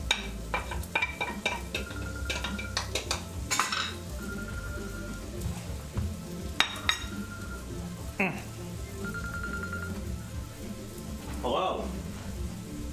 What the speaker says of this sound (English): Now we're gonna slowly saute all these aromatics